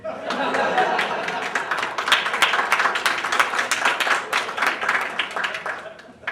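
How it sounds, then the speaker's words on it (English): Student association senators applaud Mike Theodore at a senate meeting, brisk close clapping from a modest group in a room, with chuckles and murmured chatter mixed in throughout. "You can applaud for him because he'll never be at that dais again"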